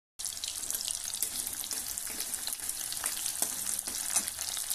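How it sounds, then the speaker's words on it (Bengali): Chopped onions fry in hot oil in a wok over a high flame, giving a loud, continuous sizzle with scattered crackles and pops from start to finish and no voices. "কড়াতে তেলটা গরম হয়ে গেলে প্রথমে দিয়ে দেবো পেঁয়াজ কুচি করে রাখা এবং সেটাকে একটু ভাজবো"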